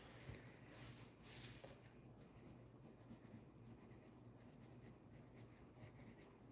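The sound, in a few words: colored pencil burnishing on paper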